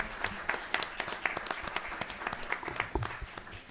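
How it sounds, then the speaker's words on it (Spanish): Audience applause for a speaker's talk at a law faculty event at UNAM, a steady patter of many hands clapping in a room, moderately loud with brief sharper claps throughout. "les pido un fuerte aplauso para su interesante ponencia"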